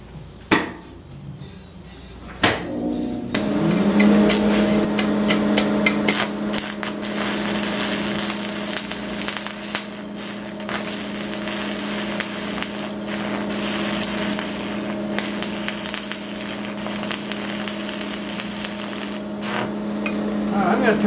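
An AC buzz box stick welder runs at about 75 amps, giving a sustained crackling, sizzling buzz that starts after a couple of sharp clicks and continues loud and steady to the end.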